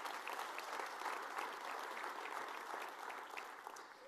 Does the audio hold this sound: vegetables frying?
no